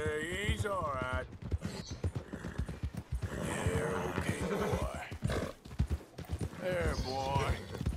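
Horse hooves clip-clopping in Red Dead Redemption II, a steady walking rhythm with a whinny, heard under near constant male speech.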